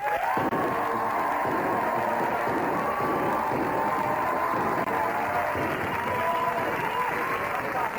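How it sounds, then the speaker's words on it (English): A television studio audience claps steadily and loudly for several seconds for the winners, with scattered cheers and whoops mixed in. "give a nice big round of applause for the winners"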